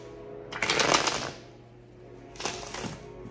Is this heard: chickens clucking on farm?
no